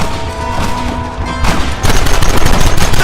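Gunfire erupts in Red Dead Redemption, a dense, loud fusillade of overlapping shots and booms that thickens into continuous rapid firing in the final seconds.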